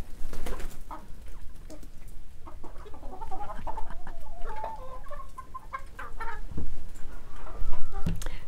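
Several chickens cluck and murmur close by in an irregular, busy chatter, with a few sharper squawks and soft cooing mixed in.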